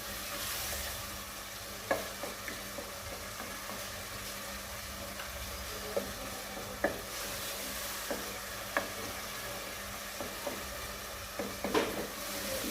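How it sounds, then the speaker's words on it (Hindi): Minced meat keema sizzles in a pan with peas as it is stirred, a constant frying hiss broken by scattered clinks and scrapes of the spoon, close and fairly quiet. "अब कीमा भून के मैं इसमें मटर शामिल करूँगी।"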